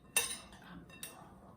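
A utensil clinks against a bowl while red cabbage salad with orange, cranberries and walnuts is stirred: one bright metallic chink, then a softer scrape and a second faint clink, close and quiet.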